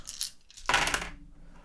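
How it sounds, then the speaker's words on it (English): Dice rerolled during a Merchants Cove board game clatter sharply onto a surface in a brief bright rattle after a few light clicks, close and quiet with no talking. "I'm going to reroll my dice."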